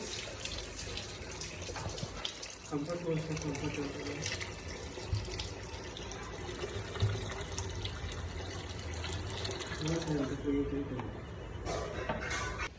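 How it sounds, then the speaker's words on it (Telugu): Water splashes and gurgles steadily into a pan for several seconds, a continuous close-up pouring with faint clinks and kitchen noise around it. "తర్వాత నీళ్ళు పోయాలండి."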